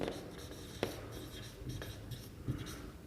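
Marker or chalk scratching on a board in a physics lesson on volumetric strain, with soft, irregular strokes and taps under a quiet room tone.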